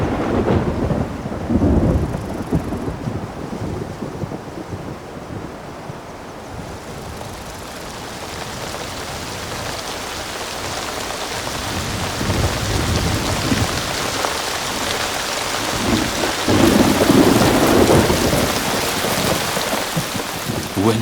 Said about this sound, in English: When it rains in the desert, it really rains.